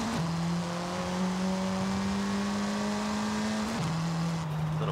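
An MG6 XPower car engine in Forza Horizon 5, drag-tuned, holds a steady buzzing drone, then drops in pitch briefly near the end as a gear shifts, loud and alone.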